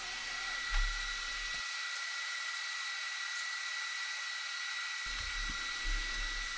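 An Ortur Laser Master 3 laser engraver cuts ellipse and rounded-rectangle lines at a slow feed rate in a single pass, giving a steady, close whirring hum with faint motor whine and a brief low thump near the start and end.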